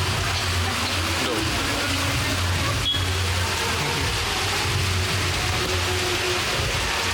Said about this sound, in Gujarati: વરસાદ ચાલુ થઈ ગયેલો છે એકદમ ફાસ્ટ